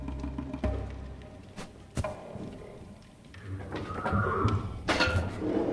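Horses in a video game whinny and snort amid scattered thuds and rustling, with a louder neigh rising near the end.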